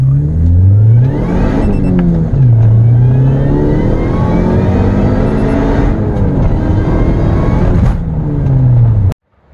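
A supercharged 2.4L Ecotec Chevy HHR accelerates hard in first gear, the loud engine note climbing through repeated rev sweeps with supercharger whine, then cutting off abruptly at the end.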